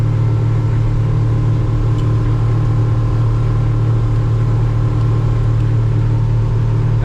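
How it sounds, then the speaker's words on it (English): Twin Yamaha F150 outboard motors on a 2021 Defiance 250 Admiral EX boat drone steadily at cruising speed while the motor is trimmed, a loud, even rumble held throughout with no talking. "Now I'm going to start trimming this motor up."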